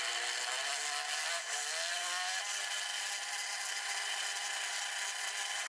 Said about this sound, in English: take a drill bit or Dremel and bring it down